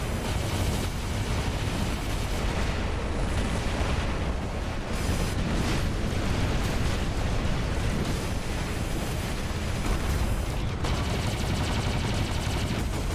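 Constant heavy weapon fire and booming explosions from robot combat in the War Robots video game, dense and loud throughout with no break, bursts of gunfire layered over rumbling blasts.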